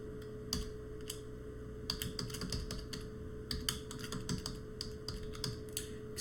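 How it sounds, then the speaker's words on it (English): Slow, uneven keystrokes on a QWERTY computer keyboard, scattered taps and small clusters of clicks over a steady low hum. "excuse my slow typing"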